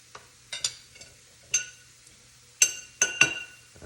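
A metal spoon clinks against a glass jar of olives in a quiet kitchen, a handful of bright, ringing taps spaced irregularly, a few in quick pairs, each decaying fast, with no talking.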